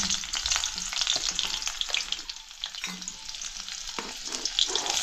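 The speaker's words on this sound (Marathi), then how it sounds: "कढई ठेवली तेल पण टाकले हे टाकली लसूण" Garlic sizzles steadily in hot oil, a loud, continuous crackling hiss with a few sharper pops, close by and with no talking.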